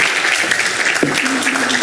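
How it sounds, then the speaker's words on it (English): An audience at a Sunday Dharma talk gives a short, steady round of applause, dense and continuous throughout, with a voice briefly audible beneath it. "let's give ourselves a little round of applause"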